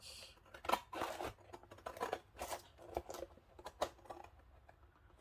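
Scissors snip through paper, cutting a flower and butterfly out of a collage masterboard for junk journal cards; a series of close, quiet, irregular clicks and snips with short pauses.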